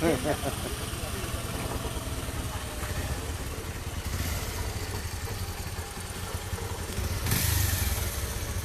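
A motorcycle engine idles steadily up close, with a brief rev toward the end and a faint hiss of passing traffic.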